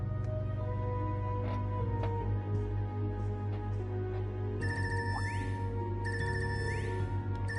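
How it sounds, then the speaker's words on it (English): A phone ringtone from the video game Trails of Cold Steel III on PS5 chimes as a repeating electronic melody over steady game background music, with bright rising tones recurring in the second half. "This ringtone, I've not heard this before."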